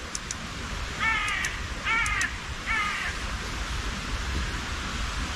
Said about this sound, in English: Birds began calling aggressively.